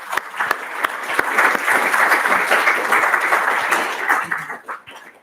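An audience claps after a talk at a literature symposium, a dense, even patter of many hands that swells, holds steady for several seconds, then thins out and fades near the end.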